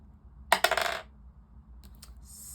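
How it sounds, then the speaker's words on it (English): Small dice tossed onto a table, a quick clatter of a few bright bouncing hits lasting about half a second, then near silence with a couple of faint light taps. "we do the dice roll"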